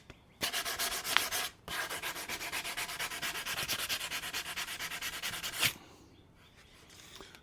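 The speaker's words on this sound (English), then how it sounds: "Now let's get this sanded." Sandpaper scrubs back and forth on a wooden workbench leg in quick, even rhythmic strokes, close and steady, with a short pause near the start before the sanding resumes and then stops.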